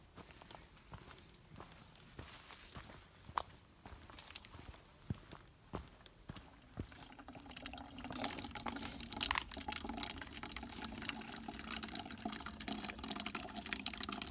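Water from a trail water source near Deer Park Mountain Shelter on the Appalachian Trail, with footsteps approaching before a steady flowing, pouring wash that rises and holds, fairly quiet.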